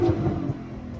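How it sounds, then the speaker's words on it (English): A Toyota Supra's engine rumbles loud and low-pitched outdoors at a street car meet, a steady throaty drone that swells briefly and then holds for about a second, with no voices heard over it. "You want me to rev it, bro?"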